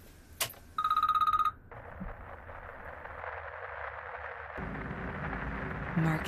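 A telephone rings with a short electronic burst of repeated tones early on, followed by a low, steady background rumble with faint movement sounds.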